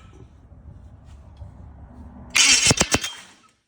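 A 1969 Chevelle fitted with a Holley EFI Sniper kit and a suspected starter fault sits under a low murmur, then bursts into a loud, sputtering start with a few sharp pulses before cutting out abruptly.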